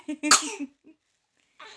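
One sharp, explosive cough bursts out close to the mic, followed by near silence and a faint rustle at the end.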